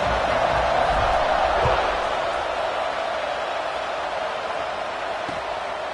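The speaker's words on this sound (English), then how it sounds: "this crowd is buzzing after that last score" A college football stadium crowd at a Michigan home game against Indiana buzzes steadily after a touchdown, a dense, loud roar that eases slightly over several seconds.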